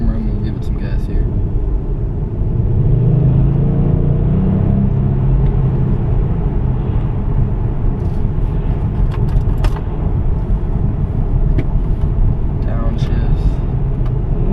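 Kia Stinger fitted with a pedal commander accelerating on the road, a steady loud engine drone and rumble that holds throughout, with someone talking over it.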